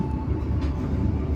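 A KA Doho passenger train set rolling through a station, a steady low rumble of railcars heard close with no one speaking.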